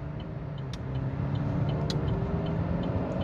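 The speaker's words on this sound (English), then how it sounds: "he's got a tire noise, but I think that's the alignment that we've got going on" A 2015 Chevy Equinox rolls along with steady tire roar, probably from misalignment, a constant low rumble from inside the car with a few faint ticks over it.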